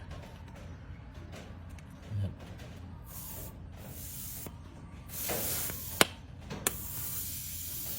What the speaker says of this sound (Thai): แล้วลมก็จะค่อยออก